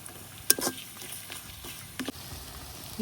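Chopped onion lightly frying in a pan, with a soft continuous sizzle broken by a few sharp clatters and stirring scrapes, close and fairly quiet.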